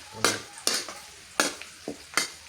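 Shallots frying in hot oil in a pan for Thai son-in-law eggs, a soft steady sizzle broken by five or six sharp bursts as they are stirred, close and moderately quiet.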